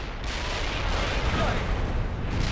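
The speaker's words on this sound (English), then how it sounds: "Incoming fire!" Incoming gunfire and artillery in the World in Conflict video game: a dense, continuous rumble of battle noise that holds steady at full strength, with no single shot standing out.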